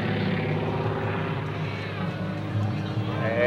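Aerobatic propeller airplane engine droning steadily as power is added during an airshow, heard from a distance with a loudspeaker announcer talking over it.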